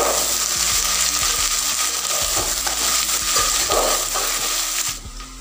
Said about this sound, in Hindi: अब हम इनको थोड़ी देर तक भूनेंगे।